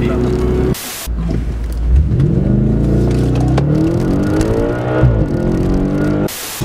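An Audi RS 5 Cabriolet engine roars and climbs through the revs under hard acceleration, with a short break in between, loud and close.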